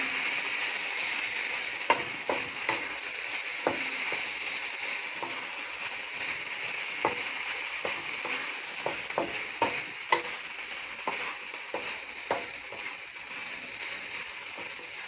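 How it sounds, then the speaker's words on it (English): Rice for egg fried rice stirred in a hot pan, a steady sizzle running throughout with irregular scraping and clinking strokes of the spoon, close and moderately loud, no talking. "Then we're going to take our rice, put our rice in. Give that a stir."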